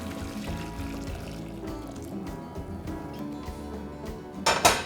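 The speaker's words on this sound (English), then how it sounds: "When your water is just at a boil, you can turn it off, and I'm just gonna pour it in here." Boiling water, just off the boil, pours into a clear bowl with a continuous low gush, ending in a brief brighter splash.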